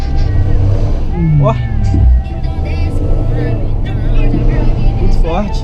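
Renault Sandero engine revving at half throttle, a loud steady drone with rising and falling harmonics that holds throughout, while people talk over it.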